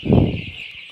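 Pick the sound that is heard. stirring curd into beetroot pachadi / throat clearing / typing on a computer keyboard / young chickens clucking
young chickens clucking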